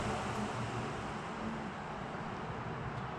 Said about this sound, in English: I apologize for the road traffic noise